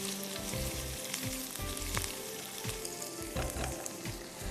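Whole cumin and spices fry in hot oil for a fish curry, giving a loud, steady crackling sizzle with rhythmic spoon scrapes as they are stirred.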